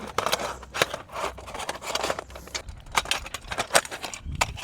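Metal folding camping table being unlatched and folded up, a quick series of sharp metallic clicks, clanks and rattles at close range, irregular and alone.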